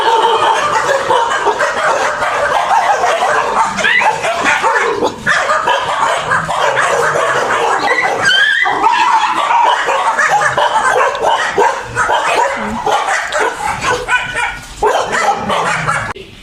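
Many dogs bark, yip and whimper in a busy, overlapping chorus near a kitchen where their meals are cooked, loud and sustained throughout with faint voices underneath.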